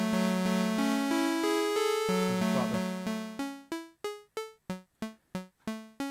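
An Ableton Wavetable synth chord run through an arpeggiator, with its notes stepping up in a steady sequence, then breaking into short, clipped repeated plucks that decay quickly one after another.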